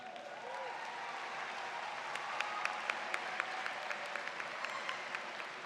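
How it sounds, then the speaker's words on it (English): A crowd at a university commencement applauds steadily, a dense wash of clapping at moderate distance that carries on without a break. "Graduates, please give them a big round of applause."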